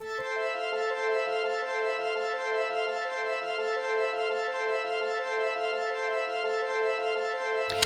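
Layered Arturia Augmented Strings synth presets sustain a rich, steady chord together, bright stacked harmonics holding evenly throughout with no talk.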